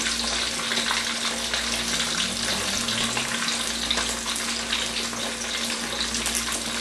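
Red snapper fries in a hot pan with a dense, continuous sizzle and crackle held at steady loudness throughout, close by and with no talking.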